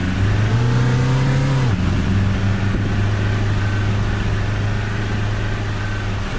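BB40 minibus engine in Tourist Bus Simulator, a steady loud drone that revs, drops briefly as it shifts, then settles into a continuous hum while driving.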